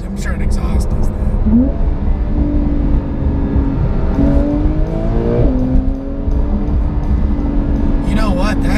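A 2020 Porsche 911 Carrera S (992) engine climbs into its upper RPM range with a rising, howling tone, heard loud and steady from inside the car while occupants talk over it.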